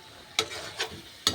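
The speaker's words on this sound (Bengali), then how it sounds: "এভাবে নেড়ে নেব। এবার আমি" Banana pieces stirred in a frying pan with turmeric give three distinct scraping strokes over a faint low sizzle, close and fairly quiet, with no talking.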